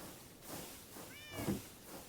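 A cat meows faintly a few times, with one clearer, rising meow near the middle, over quiet background noise.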